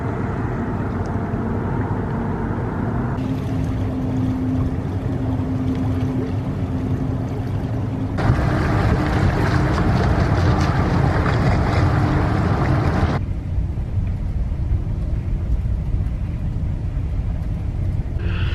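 A river cruise ship picks up speed on the water with a steady, broad engine and water rumble that swells louder midway, then settles, with no talk.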